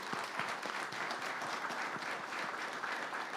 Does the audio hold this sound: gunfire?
no